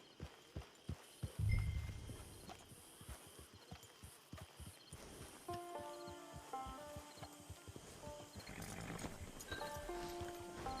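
Horse walking in Red Dead Redemption Online, hooves clip-clopping in a steady rhythm at moderate distance, with faint in-game ambience and melodic tones rising behind the steps.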